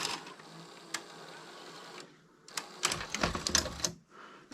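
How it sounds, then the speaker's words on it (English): Mitsubishi HS-B70 VHS VCR ejecting a tape: a short run of mechanical clicks and whirring clatter, with a brief quiet gap before a louder burst of ratcheting mechanism noise near the end, heard alone and close. "the tape is ejected absolutely perfectly"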